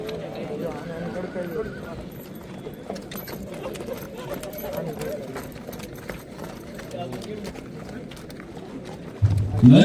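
At a Kathiawari horse ring show, a horse neighs and hooves clip-clop amid crowd noise while a voice announces over a loudspeaker, with a louder burst of sound right at the end.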